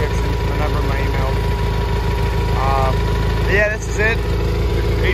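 A John Deere 318 garden tractor engine idles steadily close by, a constant loud drone throughout with someone speaking briefly over it.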